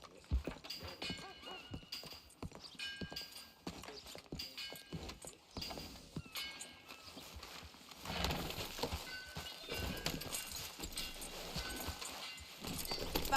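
Steady hoofbeats of a horse galloping, rhythmic clip-clop growing busier and louder midway, with occasional clanks and rustles in a game soundscape.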